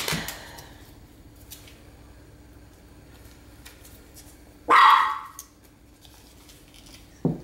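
A dog barks once, loud and close, in a home kitchen where a chicken, ham and Swiss cheese casserole is being assembled, then stays quiet apart from a faint short sound near the end.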